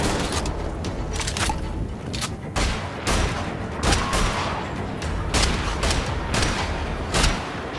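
Repeated heavy gunfire bursts from a shotgun blast in the first-person shooter Wolfenstein: The Old Blood, loud and close, firing roughly every second over dense background combat noise and booms.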